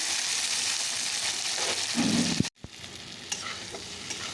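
Spice paste frying in a pan for a Bengali fish curry, a loud steady sizzle that cuts off abruptly midway and then continues more quietly with small clicks and stirring, with no voices.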